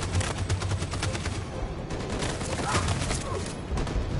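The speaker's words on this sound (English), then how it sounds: "That machine gun is taking down everything that moves." Machine-gun fire in a battle scene from the video game Detroit: Become Human is dense and continuous, with rapid loud volleys blending into one another for the whole stretch.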